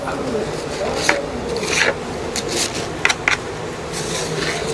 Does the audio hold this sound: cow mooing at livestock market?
no